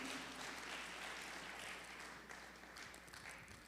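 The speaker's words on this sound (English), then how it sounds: "let's give her a warm round of applause as she makes her way through the maze" An audience at a Black History concert with Rich Township District 227 applauds the drama director, giving a soft, continuous patter of clapping heard from a distance that tapers slightly toward the end.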